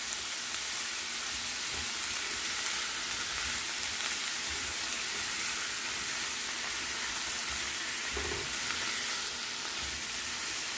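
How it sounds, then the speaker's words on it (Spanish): Carrot, onion, green and red peppers and tomato sauté in a pan, a steady close sizzle and frying hiss running throughout with occasional soft stirring scrapes, no voices. "nuestra zanahoria y cebolla se están cocinando."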